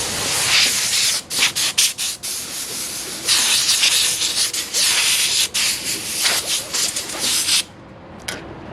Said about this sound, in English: what we do with our air compressor and our blowgun, I'll go over here with this